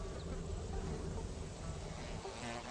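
Flies buzz steadily around a foul-smelling stapelia flower that mimics rotting meat in a garden, a dense, continuous insect drone lasting the whole stretch at low volume with no clear pauses.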